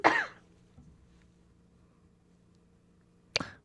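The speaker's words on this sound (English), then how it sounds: "Very funny time to cough." A man with bronchitis coughs during a podcast recording, with one sharp burst at the start and a second near the end and a quiet room between them.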